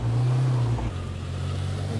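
A pickup truck's engine in the video game H1Z1 drones loudly throughout, with a low humming pitch that shifts slightly partway through, like an idling or cruising vehicle.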